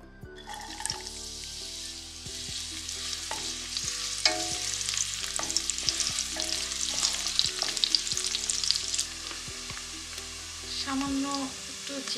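Chopped garlic and onion frying in oil in a pan, a bright crackling sizzle that builds as the food hits the hot oil, with occasional stirring clinks and scrapes.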